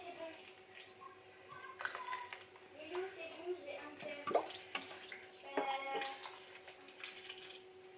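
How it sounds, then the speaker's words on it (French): Water from a watering can spills onto a potted plant from above, a quiet, uneven splashing and trickling with small drips, heard faintly nearby alongside soft background sounds. "je vais l'arroser d'abord par le dessus pour voir ce que ça donne"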